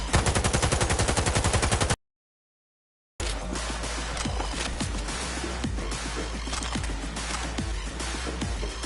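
Automatic gunfire in the video game Cyberpunk 2077 opens as a fast, even burst of loud shots. After a short silent gap, a busy firefight follows with scattered shots and impacts over a rumbling background.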